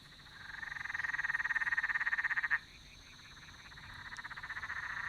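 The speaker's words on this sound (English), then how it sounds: "Now, you can hear why that frog's called a laughing frog, right?" A laughing frog, also called a mountain frog, gives a loud, rapid cackling croak near the water, a fast pulsing chatter lasting about two seconds, then a short pause and another rising burst of the same call.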